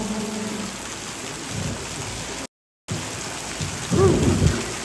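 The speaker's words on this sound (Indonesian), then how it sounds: "Hujan deras" Steady heavy rain hisses throughout a funeral consolation service at a tongkonan, broken by a brief dropout, with a deep rumble of thunder rolling in near the end.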